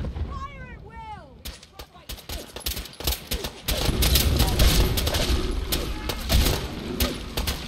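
Rapid gunfire from Fallout 4, many close sharp shots and booming blasts layered into a dense barrage after shouted voices, continuing with chaotic battle noise.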